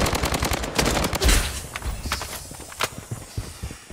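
Rapid bursts of gunfire in the game Blood Strike crackle at the start, followed by scattered sharper shots and thuds, fairly close and loud.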